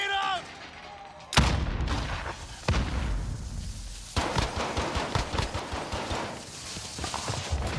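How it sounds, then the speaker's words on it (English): Video game combat with a grenade blast followed by heavy gunfire: a sharp, loud explosion, then further bursts and a dense, rapid rattle of shots. "Grenade out!"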